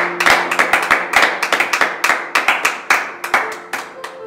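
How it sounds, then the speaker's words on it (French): Congregation clapping hands in rhythm during a church worship service, a brisk run of sharp, close claps repeating steadily for several seconds, with no voices over them. "Acclamons encore Jésus."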